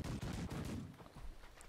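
Weapon fire in The Last Leviathan video game, a quick burst of loud rapid shots that tails off into a fading rumble, no talking.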